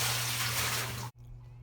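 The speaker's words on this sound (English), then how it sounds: "Adding the water to the tank from the old tank" Water pours steadily into a saltwater aquarium tank from an old tank, a loud continuous splashing gush that cuts off abruptly near the end, leaving only a low hum.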